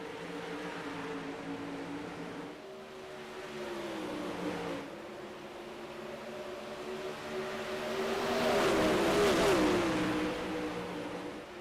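Race cars roar around the Eldora Speedway dirt oval as the green flag drops, a steady engine drone that swells and rises in pitch as the pack passes close, with no talk.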